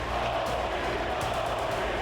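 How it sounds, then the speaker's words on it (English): Arena crowd at an NHL hockey game roaring for Alex Ovechkin's 800th goal, a dense, sustained wall of cheering that stays loud and steady throughout with no pauses. "Listen to this crowd."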